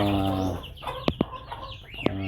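Hens and chicks clucking in a backyard pen where chicks are raised naturally with two mother hens, with a soft harmonic hen call at first, then a few sharp chick peeps and clucks standing out clearly.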